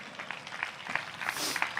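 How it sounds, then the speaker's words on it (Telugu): A congregation clapping hands at an outdoor gospel meeting in Patancheru, heard as fairly faint, scattered claps with a few sharper accents over a low background hum. "గట్టిగా చప్పట్లు కొడుతూ స్తోత్రాలు చెప్తాం"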